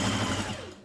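A sewing machine runs a short burst of stitching along the seam allowance of the pockets on a skirt. It makes a close, steady mechanical whir that tapers off at the end, with no talk.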